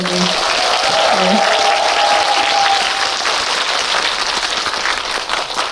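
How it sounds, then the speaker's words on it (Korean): Audience at a film screening and talk applauding, a sustained wash of clapping from a crowded hall, with a brief voice at the start, gradually thinning toward the end. "두 분께 박수 한번 부탁드릴게요"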